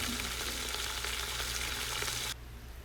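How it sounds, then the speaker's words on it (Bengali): Washed meat being sautéed in a pan, giving a dense, steady frying hiss close up that drops off suddenly near the end. "এখন আমরা মাংসগুলো একটু কষিয়ে দেবো"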